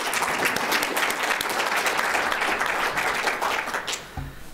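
Audience at an annual general meeting in Regina gives a steady round of applause during an awards presentation, moderately loud and dense, tapering off near the end.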